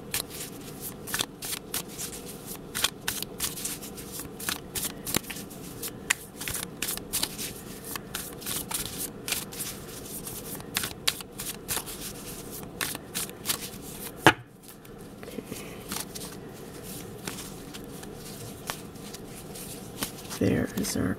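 Robin Wood tarot cards being shuffled by hand, a steady run of crisp riffling and slapping card sounds with a brief pause partway, while a person talks over it.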